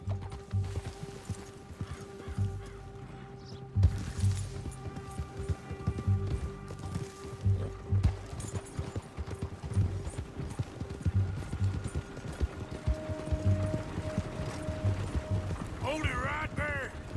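In Red Dead Redemption 2, a horse gallops with a steady, rhythmic clip-clop of hooves under creaking tack and mechanical rattles, moderately loud and continuous for the whole stretch.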